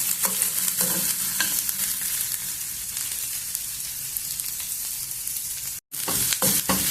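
Green chillies and onions sizzle and crackle steadily in hot oil in a pan, a dense close frying hiss with stirring scrapes throughout and one brief dropout near the end.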